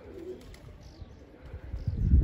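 Pigeons settling down amid windy outdoor conditions, with a soft low coo near the start and a louder rush of wings or wind buffeting building toward the end.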